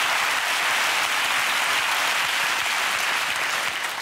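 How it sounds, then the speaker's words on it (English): A British studio audience on a talk show breaks into dense, continuous applause, loud and even from start to finish with no break. "That applause means something."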